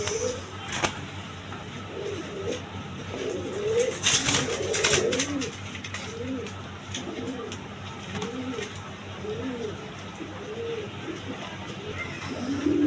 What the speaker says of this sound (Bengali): এখানে 2 পিস মাদি কবুতর আছে। একটা হলো রাজগোল্লা মাদি, রেড কালারটা, আর একটা হলো চুয়াচন্দন মাদি।